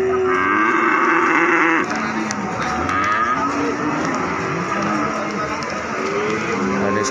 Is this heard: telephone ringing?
no